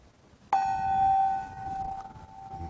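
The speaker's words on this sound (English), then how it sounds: "I guess I should start with the gong" A single gong stroke opens a Unitarian church service, ringing out with a sharp attack and a long, steady, shimmering sustain that slowly decays over a couple of seconds, with faint room noise beneath.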